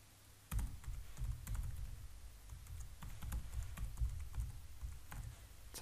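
Typing on a computer keyboard, a quiet, close patter of irregular key clicks in quick bursts with short pauses, heard on its own without talk.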